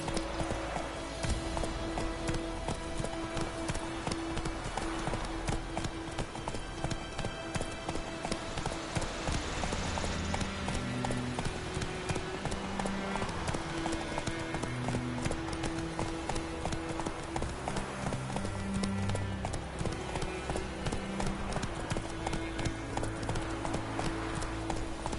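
Roach, the horse in The Witcher 3, galloping with rapid rhythmic hoof clip-clops over a continuous game music bed, steady and close for the whole stretch.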